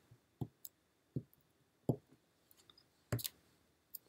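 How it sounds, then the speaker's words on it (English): Crisp scissor snips cutting a notch into a paper card for a pop-up card, a handful of sharp separate clicks spaced irregularly, close and fairly quiet. "I gotta cut out the notch, but it's okay."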